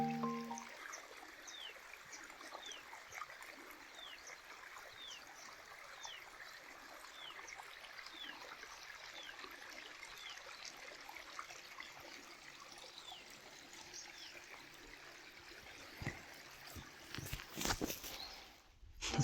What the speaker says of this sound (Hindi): सिर्फ इस पानी के साउंड को महसूस कीजिए